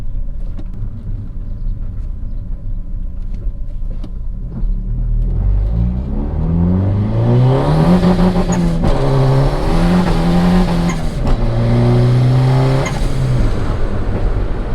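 A turbocharged Honda Accord engine idles with a low rumble, then revs hard several times toward the rev limiter, loud and close with rising and falling pitch.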